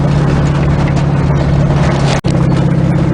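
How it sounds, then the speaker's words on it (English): Off-road vehicle with a loud aftermarket exhaust driving a bumpy trail, a constant heavy engine roar with rattling, briefly cutting out for an instant before resuming, close and loud with no speech. "It's probably kind of loud right now because it's bumpy and my exhaust isn't exactly quiet."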